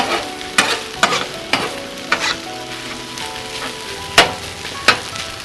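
Hibachi-style fried rice cooking on a Blackstone griddle outdoors while camping: constant sizzle broken by sharp metal spatula scrapes and clacks at irregular intervals, close and fairly loud.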